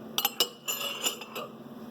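A metal spoon clinks against a ceramic mug in a quick run of bright, close taps, a few sharp strikes followed by lighter rattling contacts, with no voices.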